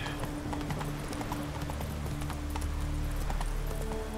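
Horse hooves clip-clopping in The Witcher 3 video game, a steady stream of hoofbeats under continuous game ambience and music, fairly close and consistent throughout.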